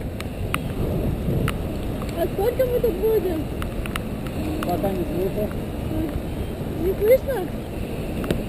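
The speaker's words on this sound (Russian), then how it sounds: "Дождик усиливается." Heavy rain falls steadily outdoors at a paragliding site, a dense hiss of drops with occasional sharper taps, while a person talks over it.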